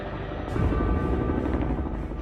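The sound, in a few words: helicopter in flight, no doors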